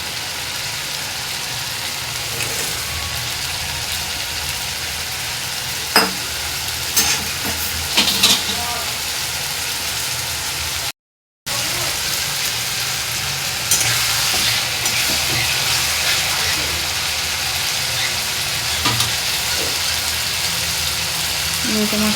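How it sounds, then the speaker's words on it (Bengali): Ginger-garlic paste fries and is stirred in a hot pan, making a continuous close sizzle with a few scraping knocks of the spoon, and a brief cut to silence midway. "সেই আদা রসুনটা আমি দিয়ে দিলাম, দিয়ে একটু নাড়াচাড়া করে আমি লোটে মাছটা দিয়ে দেবো"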